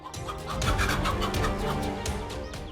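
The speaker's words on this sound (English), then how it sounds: "the cobra faces a mother hen guarding her nest" Mother hen clucking repeatedly and agitatedly while guarding her nest against a cobra, a close, steady run of fowl calls with broadband rustle throughout.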